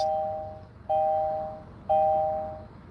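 A bell rings three times at even intervals of about one second, each clear tone starting sharply and then fading slowly, heard close and alone.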